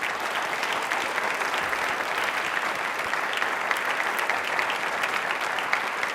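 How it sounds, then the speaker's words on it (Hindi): A television studio audience claps loudly and steadily in a dense, even burst of applause at a quiz program for Independence Day, with no talking over it. "इसलिए तालियां एक बार जोरदार बजा दीजिए।"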